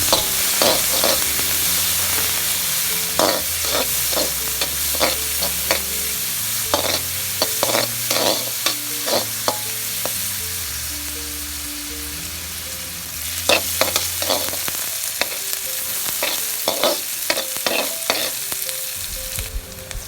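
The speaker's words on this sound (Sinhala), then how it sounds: "දැන් සුදු ලුණු මේ ආකාරයෙන් එකතු කරලා රන්වන් පාට වෙනකන් බෙද ගන්න ඕනේ" Garlic frying in oil until golden, for garlic rice, makes a loud continuous sizzle broken by frequent sharp scraping and tapping of a spoon stirring in the pan.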